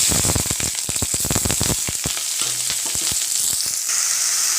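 Cumin seeds, dried chilies and a bay leaf crackle and pop fast in hot oil for samosa filling, a dense close burst of spitting that thins out after a few seconds into a steady sizzle.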